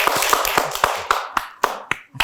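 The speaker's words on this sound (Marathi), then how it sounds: "टाळ्या वाजवा बरं त्याच्यासाठी." Children in a classroom clap for a classmate, a quick burst of about ten sharp, close claps in an uneven rhythm with no talking.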